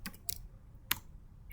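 Keys tapped on a computer keyboard while entering a command in a terminal, a short burst of clicks, a pause, then a single sharp keystroke, close and quiet with no talking.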